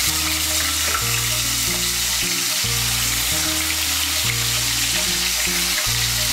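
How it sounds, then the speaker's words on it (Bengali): Paneer pieces fry in hot oil, giving a loud, steady sizzle and crackle that continues throughout, with faint stirring clinks and no voices. "এই তেলের মধ্যে আমি পনিরগুলো ভেজে নেব।"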